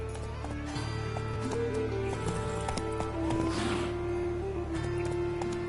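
Roach, a horse in The Witcher 3, runs with steady, muffled hoofbeats under a continuous game music drone, with a brief whoosh midway and no clear breaks in the rhythm.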